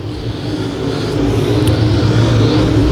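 Stock cars and modifieds race around the I-35 Speedway dirt oval, engines droning and rising steadily in a loud continuous roar that swells toward the end.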